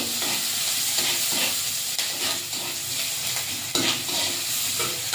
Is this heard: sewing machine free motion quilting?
no